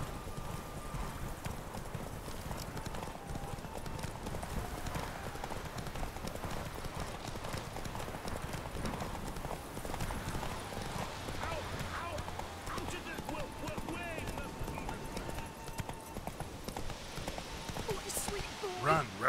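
Roach the horse gallops in The Witcher 3, and its hooves clip-clop steadily in a fast, even rhythm throughout. The footfalls are moderately close, and faint game sounds sit underneath.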